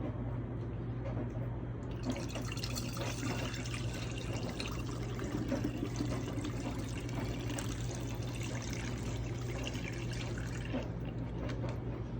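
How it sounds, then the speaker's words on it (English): Continuous pouring of water into a pot of chicken and beef bone broth, a steady splashing stream lasting several seconds without talk. "let me pour a little bit more"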